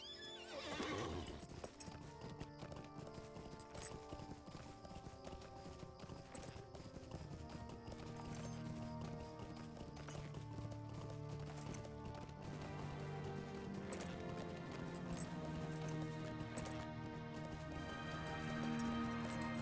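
Steady clip-clop of galloping horse hooves in the video game Lord of the Rings Online runs throughout under background music, with a neigh near the start.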